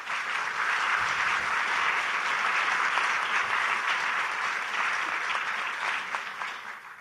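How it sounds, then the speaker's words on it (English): An audience at a poverty roundtable in South Carolina gives sustained applause for Carrie Harris, many hands clapping steadily for several seconds before slowly tapering off. "Can you guys give her a round of applause?"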